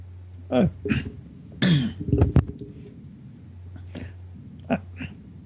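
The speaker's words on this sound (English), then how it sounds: "Sorry, I was coughing." A few sharp coughs and throat-clearing bursts, close and fairly loud, with short pauses between them.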